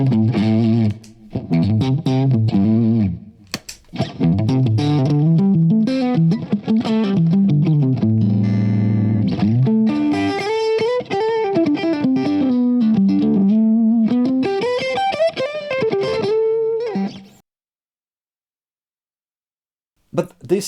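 An electric guitar plays through a Hughes & Kettner Nano amplifier rig with a double pedalboard, producing melodic single-note lines and sustained bends with effects. It plays loud and upfront for about seventeen seconds, then drops into silence.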